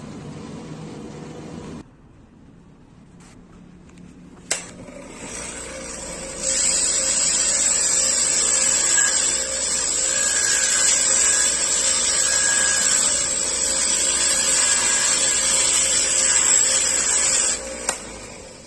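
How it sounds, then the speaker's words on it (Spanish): An angle grinder fitted with a coarse, stiff-bristled wire brush scrubs a fresh weld on a motorcycle gearbox gear. The grinder starts and then runs steadily at high pitch for about twelve seconds with a loud, continuous abrasive whine. "limpiamos con la escobilla del esmeril, escobilla de cerdas gruesas, de cerdas duras"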